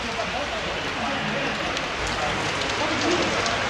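Heavy rain pours down steadily in a dense, constant hiss across the whole stretch, close and loud, during a trip toward Manakamana in Nepal.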